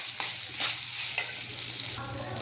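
A spoon stirs poha upma, flattened rice with sautéed onions and spices, in a frying pan, scraping in a few distinct strokes over a steady close sizzle.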